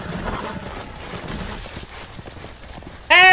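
Video game horse: hooves clip-clop in a quick rhythm, then the horse lets out a loud whinny at the end.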